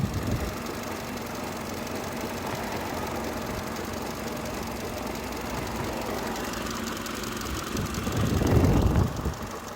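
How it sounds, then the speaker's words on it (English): A 2002 Mercedes A-Class engine idles with a steady, close vibrating drone and faint clicky rattling throughout, swelling louder and rougher near the end; no one speaks. "Sounds like a little clicky kind of vibrating sound."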